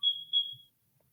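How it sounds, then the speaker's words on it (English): A household smoke detector chirps during its self-test: two sharp, piercing electronic beeps in quick succession, fairly close and loud, then quiet. "my smoke detectors are testing themselves"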